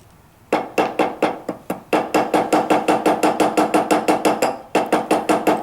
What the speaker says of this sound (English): And I'm making sure to keep the hammer on the rivet.